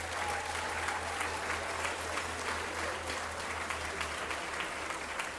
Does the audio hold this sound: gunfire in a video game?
no